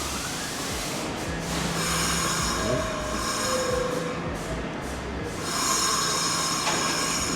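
A New York subway train rolling along the rails, steady rumble and clatter with wheels squealing in drawn-out tones, heard from inside the moving car with no talk.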